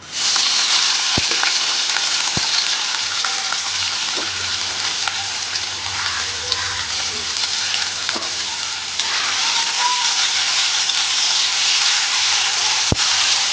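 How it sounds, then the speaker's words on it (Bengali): Onion and green chili frying in hot mustard oil in a wok, tempered with black cumin, for a prawn and potato curry; a steady, dense sizzle runs throughout with a few sharp clicks, loud and close, with no talking. "কড়াইয়ে সর্ষের তেল গরম হলে কালো জিরে ফোড়ন দিয়েছি এবার পেঁয়াজ আর লঙ্কাটা দিয়ে দেব"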